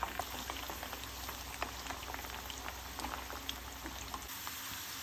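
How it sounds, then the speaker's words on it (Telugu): Cut ivy gourd pieces deep-frying in oil for a wedding-style fry, a dense steady crackle and bubbling hiss with scattered pops, unbroken and fairly close throughout. "ఇట్లే మనం కట్ చేసుకున్న దొండకాయలన్నీ ఫ్రై చేసుకోండి"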